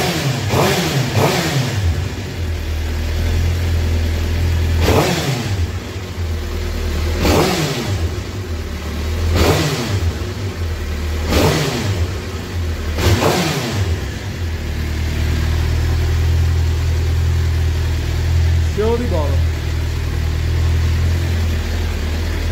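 A Suzuki GSX-R750 sport motorcycle engine, newly fitted with fresh spark plugs, idles close by and is revved hard again and again, each sharp rise in pitch falling back to a steady idle.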